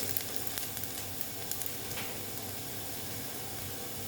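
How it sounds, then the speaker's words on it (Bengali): Onion and green chillies fry in oil in a pan, giving a soft, steady sizzle at low volume with a few faint clicks of stirring. "পেঁয়াজটা প্রায় ভাজা হয়ে গেছে দুটো লঙ্কা দিয়ে দিচ্ছি তার সঙ্গে ভাজা হয়ে যাবে"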